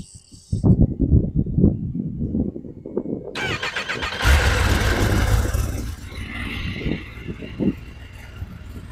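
A Kawasaki ZX10RR motorcycle engine starts: a few quiet clicks and rustles, then the starter whirs and the engine catches with a loud burst before settling into a rough idle.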